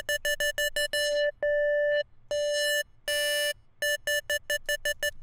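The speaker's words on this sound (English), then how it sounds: "the next sound we're going to look at is a classic old school dub siren sound" Dub siren tone synthesized in Serum pulsing in rapid bursts, then longer sustained blasts, then rapid pulses again; bright, electronic and loud, with no voices.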